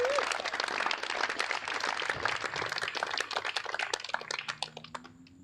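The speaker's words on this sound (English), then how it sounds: "So round of applause for our sponsors." An audience at the 2024 Ellesse Pro Tennis championship match applauds its sponsors, dense sustained clapping that thins out near the end as a voice begins over it.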